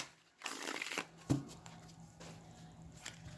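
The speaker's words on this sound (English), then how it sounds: "I'm going to shuffle it real quick for you" A short burst of tarot cards being riffled and shuffled, then a single sharp snap and some quieter handling of the deck.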